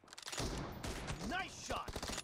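Gunshots in the mobile battle game PUBG Mobile, a quick burst of rapid shots mixed with game voice announcements and chatter, fairly faint and lasting only a couple of seconds.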